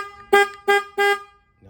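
Three short, loud honks from the horn of a 2021 Harley-Davidson Heritage motorcycle in an even rhythm, close by, followed by a brief low engine rumble.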